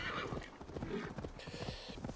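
A horse's hooves clip-clopping in the video game Assassin's Creed Valhalla, a steady rapid trotting rhythm under a dense layer of game ambience and music, with some speech mixed in.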